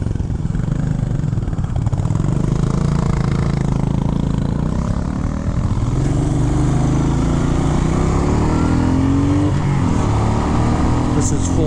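A Royal Enfield Meteor 350 motorcycle runs at full throttle with a steady, loud, low engine drone that holds throughout. Its single-cylinder putt-putt is close by and continuous.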